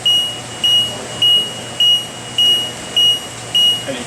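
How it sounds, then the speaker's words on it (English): A high electronic beep repeating about every half second, steady and loud, the timer alarm of an Air Control FH-45-S-SS-4 wet bench sounding on and on with faint hum beneath. "You either get an alarm like that."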